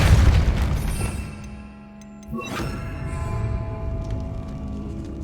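Spell blast from the Depulso force charm in the video game Hogwarts Legacy: a loud booming burst at the start, then a second sharp impact about midway, with game ambience continuing around it.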